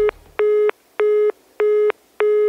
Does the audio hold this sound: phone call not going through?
yes